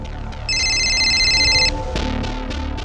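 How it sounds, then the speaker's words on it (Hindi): An electronic telephone ringtone in an indoor crime drama scene: a bright warbling tone holds for about a second, then cuts off amid low background music and thuds. "अभी नदीम का फोन है सर"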